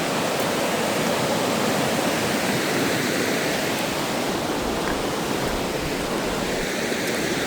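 The Chemainus River rushes beneath an old bridge crossing in a steady, dense roar of flowing water, loud and continuous with no talking.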